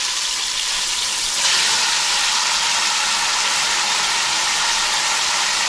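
Hot oil sizzles in a cooking pot, ready for frying: a dense, steady hiss that swells louder after the first second and a half, then holds close and continuous with no talking.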